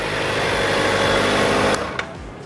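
A Kawasaki ZX-4RR motorcycle engine with stock exhaust runs steadily with a buzzing, high-pitched drone, then cuts back abruptly near the end.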